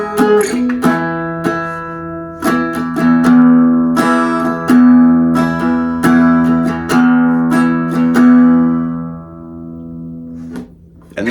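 An acoustic guitar plays the intro of a song, with strummed and picked chords ringing out in a steady rhythm, close and loud, before fading near the end with a final string noise.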